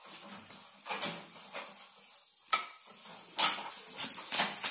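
Chana dal dropped into hot oil in a pan for coriander chutney brings a few faint scrapes and clinks of utensils against metal, with a quiet sizzle and no talk.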